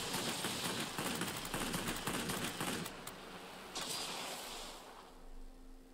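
Machine guns firing in a flight combat video game, rapid rattling bursts that are fairly faint and distant, fading out after a few seconds into a steady engine-like drone.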